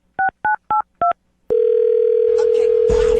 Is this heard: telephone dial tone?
yes